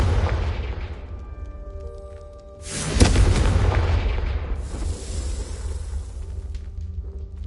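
A Confringo blasting spell explodes in Hogwarts Legacy, a sudden loud boom with a broad crackling burst that rolls on and fades slowly over a low rumble.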